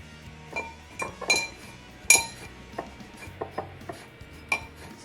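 Semolina and flour dough for katori chaat being mixed in a bowl, with irregular clinks and knocks of hand or utensil against the bowl over a low background, close and intermittent.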